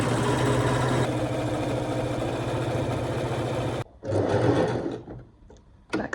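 A sewing machine runs slow and steady at light tension on jersey fabric for a close, loud, continuous hum. It stops abruptly, restarts for a short burst, then fades into quiet handling sounds.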